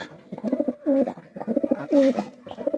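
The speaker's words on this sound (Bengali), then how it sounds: "এই জোড়া হচ্ছে আপনার খুলনার বিখ্যাত লাল জাতের কবুতর" A pair of red Khulna-breed pigeons coo in repeated throaty, rolling phrases, loud and close, with soft rustling between calls and no talk.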